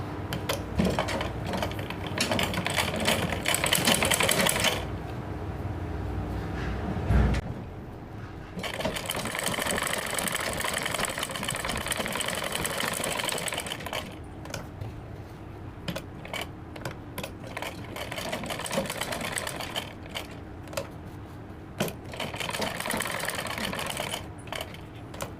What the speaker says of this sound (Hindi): अब मैं इसकी सिलाई कर दूंगी।